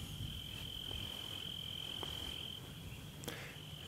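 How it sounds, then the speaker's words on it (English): Steady, shrill cricket chirping fills a quiet outdoor night, with a few faint croaks or clicks scattered through. "The crickets and the frogs as our background music."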